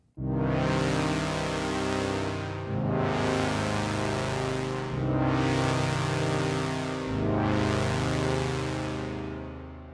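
A sustained brass-like Korg synthesizer chord, the default brass preset, plays in four long swelling phrases, each fading slightly before the next, loud and alone.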